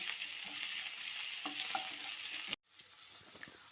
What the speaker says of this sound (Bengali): আদা রসুন কাঁচা লঙ্কাটা দিয়ে একটু ভেজে নিচ্ছি